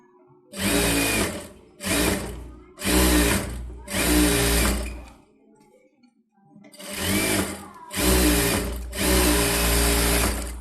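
A tailor's sewing machine double-stitches the belt piece of a blouse in a series of loud, close bursts of whirring, several short runs separated by brief pauses, with one longer gap midway before stitching resumes.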